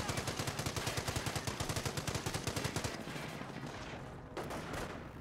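Rapid MG42 machine gun bursts ring out in a Company of Heroes battle, a fast steady stream of shots for about three seconds before giving way to rumbling gunfire and explosions.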